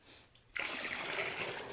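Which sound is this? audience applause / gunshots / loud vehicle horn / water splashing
water splashing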